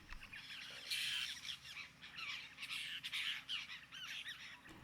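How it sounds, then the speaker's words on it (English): Olive-backed oriole calling in Queensland savannah woodland, a series of harsh squawking notes repeated in bursts at moderate distance, with other bird calls faintly around it. "And an olive-backed oriole"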